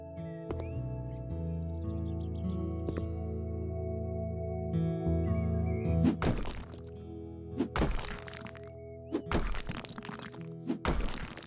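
A kitchen wall being smashed apart in a video game: several heavy thunks and cracking, breaking bursts in irregular succession, loud and close over a droning musical background.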